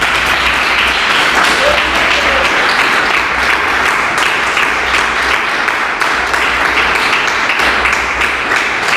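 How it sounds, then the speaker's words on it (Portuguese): A church congregation at a Sunday service applauds in a dense, loud, sustained wash of clapping from many hands, with voices mixed faintly beneath. "Aplauda o Senhor"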